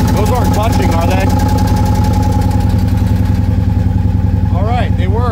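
A Victory Cross Country motorcycle idles nearby in a garage, its engine giving a steady, loud, rhythmic throb throughout, with a person talking over it.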